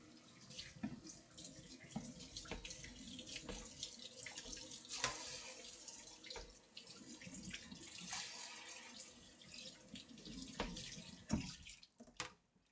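Tap water runs steadily into a sink while a chopping board is washed, a soft continuous splashing with small clatters and drips, fairly quiet and close, without speech.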